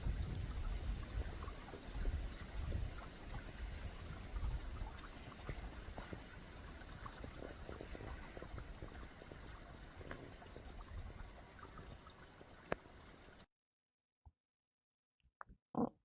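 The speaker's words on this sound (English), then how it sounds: "There's actually water running in this wash." Water runs in the Camp Stimpson Canyon wash in the Mt Charleston Wilderness, Nevada, a low, steady trickling rush with scattered clicks and footfalls, ending abruptly in near silence broken by a few brief knocks.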